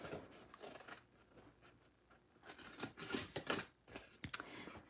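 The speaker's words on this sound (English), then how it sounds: "So just use your scissors." Scissors cutting down the middle of a score line on a paper kite craft piece, a run of soft close snips and paper rustles with uneven pauses, quiet and with no talking.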